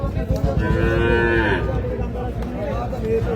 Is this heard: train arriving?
no